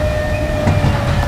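A working reproduction of Stephenson's Rocket steam locomotive, the historic early passenger engine, rumbles loudly nearby with a steady low drone and a few tonal whines over its running gear.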